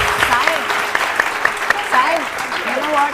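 Studio audience applause on a television morning show, clapping mixed with whoops and excited voices, loud and lively, with sharp individual claps standing out.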